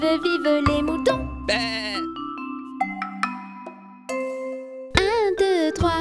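A children's counting song about sheep sounds a bright, tinkling melody with chime-like notes, and bleating sheep voices come in at the start and again at the end, loud and close over the music.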